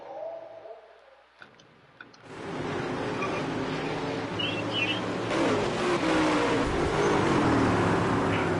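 Dirt track race cars roar past under green flag, engines building from a quiet start into a loud, sustained, rising howl as the field accelerates together.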